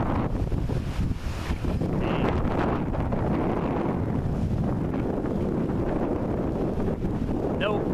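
Strong wind buffets an outdoor microphone as a storm moves into Coles County, a steady loud low rumble and rush throughout with no pauses.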